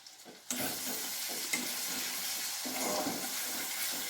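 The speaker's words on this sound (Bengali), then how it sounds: "এবার দেওয়া হচ্ছে গ্রেট করা পেঁয়াজটা।" Grated onion drops into hot oil with a burst of sizzle, then frying continues steadily while it is stirred with scraping strokes, close and moderately loud, in a kitchen cooking cabbage with prawns.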